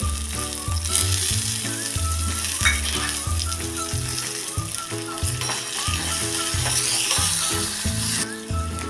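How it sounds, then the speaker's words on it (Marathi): Curry leaves and soaked urad dal spluttering in hot oil for a South Indian idli chutney tempering, a steady loud sizzle running throughout beneath background music. "मी आता गॅस बंद केलेला कारण फोडणी उडते आपली कढीपत्ता टाकल्यानंतर"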